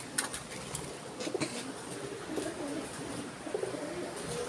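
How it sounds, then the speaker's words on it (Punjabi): Soft pigeon cooing repeats in low, throaty phrases, fairly close, with faint background noise and no talking. "ਆਪਣਾ ਵੱਡਾ ਰੱਤਾ ਕਬੂਤਰ"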